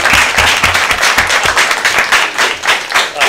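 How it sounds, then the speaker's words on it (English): Audience applause at a school district board of education meeting: dense, steady clapping from a room full of people, loud and close, running without a break and with no talk over it. "we'll give you a round of applause"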